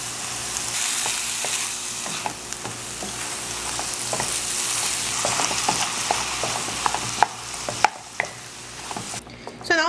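Green seasoning with salt and black pepper sizzles steadily in a pan for Trinidad chicken pastelle filling, a loud continuous hiss broken by sharp scraping stirs and small pops throughout.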